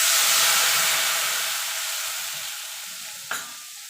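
Turmeric and chili paste hits hot oil with nigella seeds for a Bengali mustard rohu curry, giving a loud, steady sizzle that slowly fades while being stirred, with a single sharp clink near the end.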